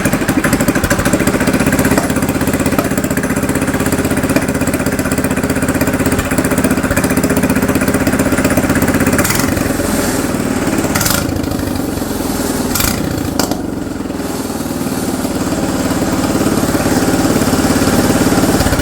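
A budget go-kart engine runs steadily and loudly close by, with a constant buzzing drone and a few brief sharper bursts partway through.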